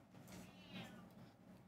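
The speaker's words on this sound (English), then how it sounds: "Cat in background," A cat meows softly in the background, a short drawn-out call heard faint and at a distance.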